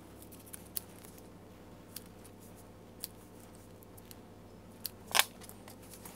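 Scissors snipping through sticker paper from a Phomemo M02 pocket printer, a handful of sparse sharp clicks spread out over several seconds, close and isolated, the last cut louder and longer.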